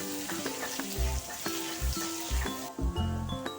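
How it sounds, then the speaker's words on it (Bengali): Potato pieces fry in oil seasoned with salt and turmeric, a steady close sizzle broken by recurring low knocks and scrapes of stirring, with no talking. "আলুগুলো ভেজে নেব দিয়ে দিচ্ছি স্বাদ মতো নুন একটু হলুদ গুঁড়ো"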